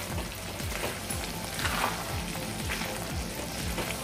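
Soya keema sizzles and fries in a pan while being stirred, a dense steady crackle with repeated spoon scrapes and clinks throughout, no voices present.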